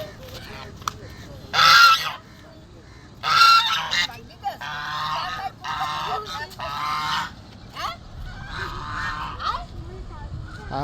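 Two or three domestic geese honk in loud, repeated bursts on the bank of the Kirtankhola river in Barisal on an early morning, with quieter honks between the louder calls.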